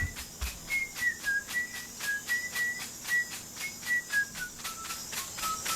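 A shaman whistles a soft, wavering melody in short repeated phrases during an ayahuasca ritual, with a pulsing chorus of crickets or insects throughout.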